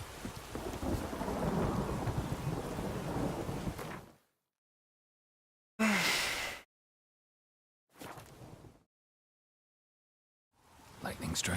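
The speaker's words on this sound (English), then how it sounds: "Lightning strike." Lightning strike and rolling thunder in The Witcher 3, a loud crackling burst over steady rain, then short sharp cracks separated by dead silence, with a voice talking at times.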